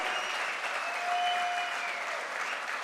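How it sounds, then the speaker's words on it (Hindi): Loud, steady applause fills a motivational direct-selling event, a dense continuous clapping from a large crowd that holds at an even level throughout with a faint whistle-like tone cutting through midway. "जोरदार तालियां"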